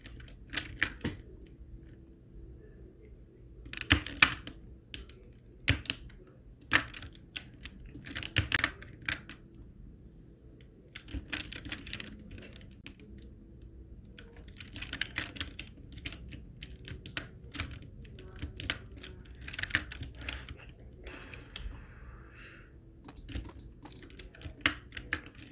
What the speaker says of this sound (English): it's a pretty aggressive typing